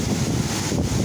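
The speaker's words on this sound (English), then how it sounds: "windy everywhere." Strong gusting wind near a river walk during stormy weather. A dense, steady roar buffets the microphone throughout a brief stretch with no voices.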